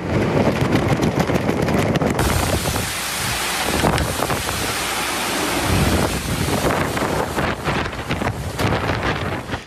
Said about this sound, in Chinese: 周三白天已经是一片狂风暴雨